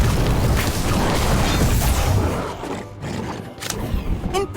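Incendio fire spell cast in the Harry Potter Magic Awakened video game, a loud, dense booming roar of fire and rumble that fills the first two seconds, then eases into a lower churning with brief flares.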